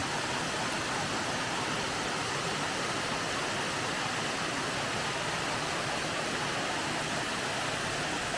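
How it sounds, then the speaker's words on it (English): Steady, full rush of Andrew Ramey Falls, a cascading waterfall on the Fall Creek Falls Trail, continuous and close, with no voices over it. "it's a beautiful cascading waterfall"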